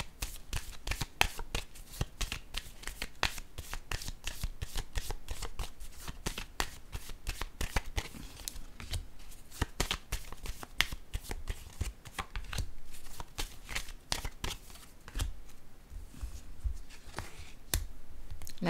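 Tarot cards are shuffled and cut by hand in a dense, continuous flurry of crisp slaps and riffles, close and fairly loud, with no talking.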